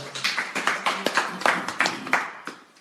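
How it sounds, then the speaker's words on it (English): Sparse, uneven hand clapping from a small audience during a sermon-style talk, a handful of separate claps rising and falling over a few seconds, fairly close and moderately loud. "Let's give a round of applause."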